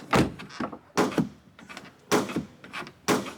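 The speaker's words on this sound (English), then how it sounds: "when I open the door, it's got this little click sound" A truck door is opened and shut repeatedly, about four times, each with a sharp click and a short rubbing scrape, close by; the door is barely catching.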